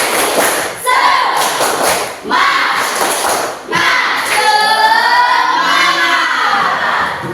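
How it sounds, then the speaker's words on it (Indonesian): Indonesian primary classroom doing a rhythmic group 'tepuk semangat' clap chant, loud, with bursts of patterned claps and children's shouting voices across the whole stretch. "Kita tepuk, ya, tepuk semangat dulu ya, Ibu ya"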